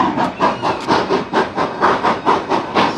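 Train venting steam in Colorado, a loud, close rhythmic hissing in regular bursts, chuffing about three times a second.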